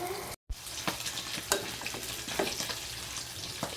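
Food crackles and sizzles in a hot pan, with scattered pops and scraping stir sounds over a continuous hiss.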